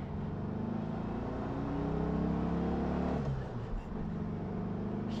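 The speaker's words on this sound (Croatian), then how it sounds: "Ajmo u utrku. Ubrzanje od 0 do 100." A VW Beetle 1200 accelerates hard from a standstill toward 100 km/h, its air-cooled engine droning steadily close by, with a brief dip near the end that could be a gear change.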